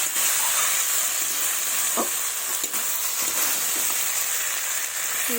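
Goat fat and green peas fry and are stirred in a pan, giving a loud, continuous sizzle with a few light scraping stirs.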